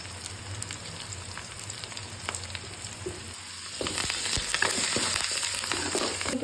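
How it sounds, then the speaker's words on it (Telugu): Onions and curry leaves fry in oil for a bitter gourd curry, a constant soft sizzle that grows louder and crackles more sharply partway through, with scattered clicks of stirring and no talking. "ఇప్పుడు ఉల్లిపాయలు బాగా వేగిపోయాయి కదా"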